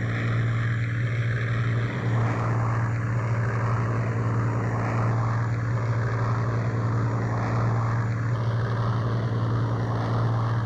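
Droning piston engines of a Heinkel He-177 heavy bomber in IL-2 1946, a steady loud hum with throbbing propeller beats and small pitch shifts, continuous throughout.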